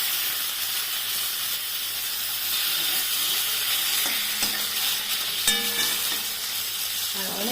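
Pieces of rui fish fry in hot oil in a home kitchen, a steady close sizzle and hiss with occasional clinks and scrapes of a utensil.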